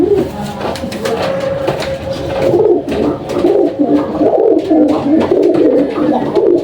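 Several pigeons coo continuously in a low, throaty murmur, close by, over a steady background of rustling and ambient noise.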